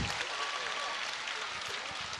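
Loud crowd applause and cheering fills the arena after Team China's creative group set at the 15th World Wushu Championships in Shanghai, a dense, steady roar of clapping and voices throughout.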